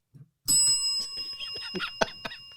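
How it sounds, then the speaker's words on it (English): A cuss bell rings out as a sound effect on a sports talk show, several bright ringing strikes with a sustained tone, loud and close, preceded by a brief murmur. "you might want to have your cuss bell ready"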